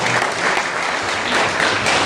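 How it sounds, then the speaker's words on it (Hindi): A hall audience at a district-level youth parliament event claps steadily in welcome, a dense, even wash of many hands lasting throughout at moderate loudness. "आप लोग कृपया ताली बजाकर सबका स्वागत करें।"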